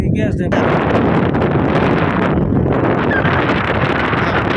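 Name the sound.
wind blowing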